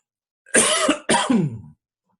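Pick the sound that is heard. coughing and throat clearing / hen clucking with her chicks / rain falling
coughing and throat clearing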